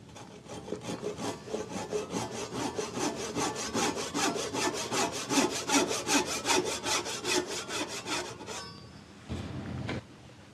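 A Japanese hand saw cuts through wood in steady, rapid back-and-forth strokes, each rasping pass evenly spaced, close and loud, ending with a brief pause and one last stroke.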